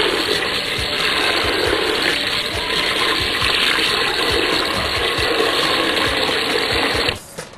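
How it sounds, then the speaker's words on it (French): Water pours steadily into a cooking pot for a cauliflower tajine, a loud, continuous rushing splash close by that cuts off abruptly near the end, with no voices. "j'ai mis de l'eau à hauteur"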